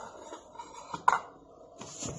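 A ladle clinks against a metal pot while a cup of chicken broth is scooped out for Hainan chicken rice, with one sharp close knock among soft kitchen clatter.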